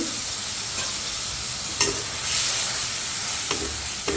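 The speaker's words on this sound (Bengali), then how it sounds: "আমি এখন মশলাগুলো ভালো করে কষিয়ে নেব" Spices with ginger and garlic paste frying in a pan, a constant hissing sizzle with a few brief scraping stirs, close and alone without voices.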